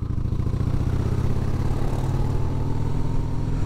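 A Harley Davidson Heritage Softail motorcycle's engine rumbles loudly as the throttle opens while riding in the rain, giving a deep, steady, close drone with continuous road and wind noise.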